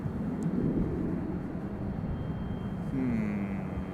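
A CRJ regional jet at Charlotte airport gives a distant, broad jet rumble with a rising whine late on, steady and moderately faint with no talk over it.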